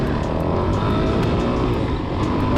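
A Suzuki DRZ 400SM motorcycle ridden on a road after a rebuild, its engine humming steadily at cruising revs amid wind rush, with no change in pace across the stretch.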